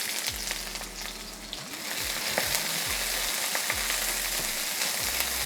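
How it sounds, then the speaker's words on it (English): Celery and onions fry in about two tablespoons of oil in a hot pan, giving a steady, dense sizzle throughout with some low stirring bumps and no talking. "We're gonna add in our celery and onions."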